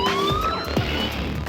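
Warning siren from a logistics robot on a motorcycle factory assembly floor, a loud wailing tone that sweeps and slides in pitch over roughly a second and a half, with no voices.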